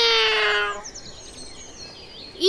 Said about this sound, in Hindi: ई बिल्ली फिर आ गई, चल भाग यहाँ से।